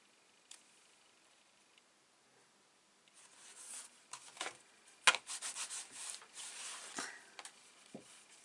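Rubbing over scored handmade cardboard for a fold card, soft close scratchy strokes in irregular bursts after a quiet start, with a few sharper taps and rasps.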